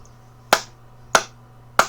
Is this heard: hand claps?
yes